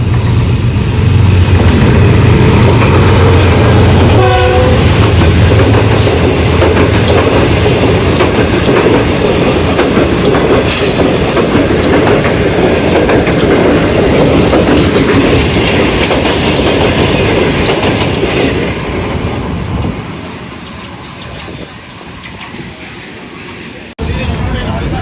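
Green Line passenger train in Pakistan rolling steadily on the rails, a loud continuous rumble with rhythmic clickety-clack of wheels over joints, heard close from on board, easing off toward the end.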